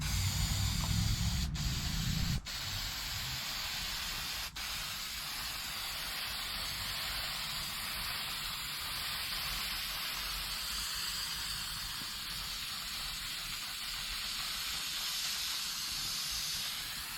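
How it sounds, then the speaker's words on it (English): A spray can of white paint hisses steadily and close for a long continuous stretch, coating the bottom of an aquarium sump, after a couple of sharp clicks at the start. "that is after 1 coat of spray paint"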